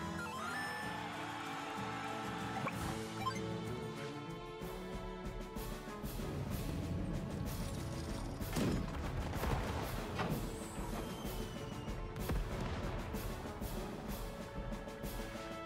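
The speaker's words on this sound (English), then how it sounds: "The back anti-air, its gun got knocked down from the explosion." Advance Wars 2: Black Hole Rising battle animation with chiptune music, bursts of gunfire and a blast among tanks and anti-air units, the explosion landing mid-sequence, moderately loud over continuous game music, without talking.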